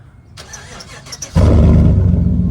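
Lifted 2015 Chevrolet Silverado 1500 with a custom exhaust, starting up: a faint key-fob chirp and a quiet lead-in, then the starter catches and the engine bursts into a loud, deep, steady idle close by.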